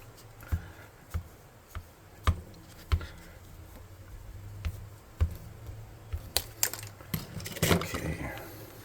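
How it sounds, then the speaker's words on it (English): Scissors snipping at craft material, a run of sharp separate cuts spaced irregularly across the stretch, close and fairly crisp, ending in a busier cluster of snips and rustling. "See if I can cut with scissors."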